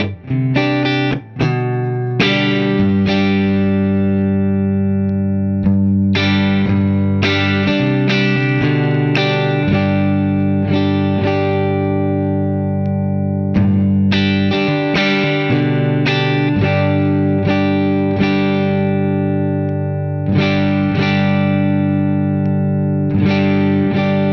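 A guitar runs through an effects pedal switched on with every control at zero, adding slight fizzle to repeated strummed chords that ring out and sustain loudly, with brief pauses between strums.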